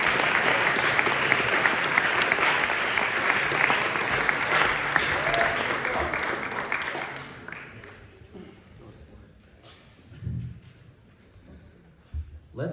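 An audience gives a speaker a welcoming round of steady, dense applause that holds strong for several seconds, then fades out, leaving quiet room noise and a faint bump.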